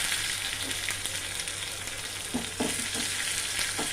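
Garlic sizzling in hot oil with dried red chillies and mustard seeds during tempering, a dense steady crackle with a few louder spits and stirring scrapes near the end, no talk.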